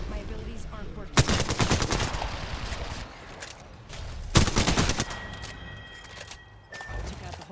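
Bursts of gunfire in Apex Legends, two loud volleys around one and four seconds with scattered shots and game sounds between, a faint tone near the end.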